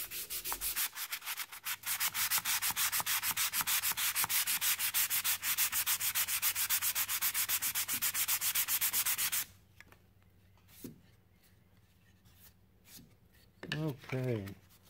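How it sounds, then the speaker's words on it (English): Dried putty on a sand-carved glass night light is sanded with rapid, rhythmic scratchy strokes for about nine seconds. Quieter rubbing and a few short remarks from a person follow. "And so now we're going to start sanding"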